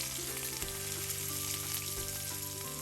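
Bay leaves, cinnamon, cardamom, cloves and chopped onion sizzle in hot oil in a pan, a close and steady frying hiss with faint stirring under it and no talk.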